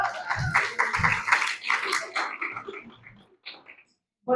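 A small group applauds a religious sister at a talk, with scattered claps and some voices mixed in, the clapping thinning out and fading toward silence.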